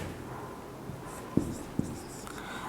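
Chalk strikes a classroom board while a logarithm is written, two short sharp taps close together against faint room hum, with no voice over them.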